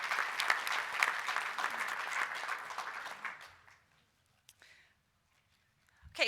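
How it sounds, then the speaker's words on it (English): Audience members at an association membership meeting applaud for a few seconds, clapping fading out midway, leaving near silence with a couple of faint noises and a voice starting at the end. "So if we could give her a round of applause."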